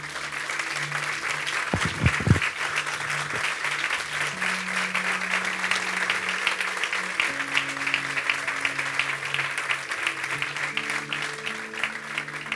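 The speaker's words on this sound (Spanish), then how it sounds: "Denle un aplauso bien fuerte al Señor." A church congregation claps loudly and continuously, a dense, even roar of hands from a large crowd, with a few sustained musical tones or murmured voices underneath.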